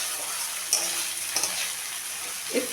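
Gobindobhog rice grains frying with spices in a pan, a steady close sizzle with a few sharp clinks of a spoon stirring against the metal.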